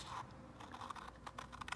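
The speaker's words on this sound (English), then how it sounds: "So I'm going to cut straight along here." Scissors cut through a sheet of handmade washi tape paper into strips, giving a string of close, light snips and crisp paper crunches that quicken toward the end.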